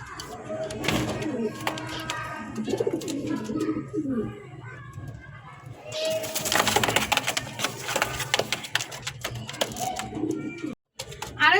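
Racer pigeons, a running pair, cooing in soft repeated low calls at close range, mixed with other bird chirps and background noise; brief speech is also present.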